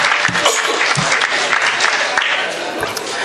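An audience at a Hindi-Urdu poetry gathering claps loudly and continuously to welcome a poet to the stage, dense close applause filling the whole stretch without any voice over it.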